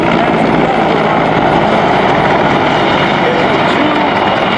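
An attack helicopter, an AH-1 Cobra or AH-64 Apache, flies at the 2022 Dayton Air Show, producing a loud, dense, unbroken roar of rotor and engine noise that stays steady throughout.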